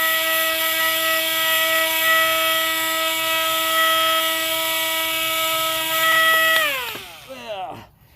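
A power sander works on a pipe with a loud, steady, high whine that holds for several seconds, then winds down and trails off in a falling tone near the end.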